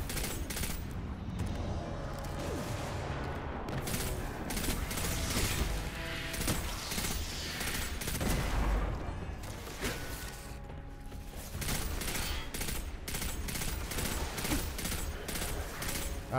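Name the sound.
pulse rifle gunfire in video game Destiny 2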